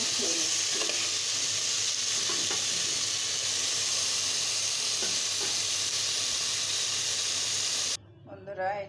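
Potato, pointed gourd and eggplant fry in oil in a pan with a steady, close sizzle and occasional stirring scrapes, then the frying noise drops away abruptly near the end.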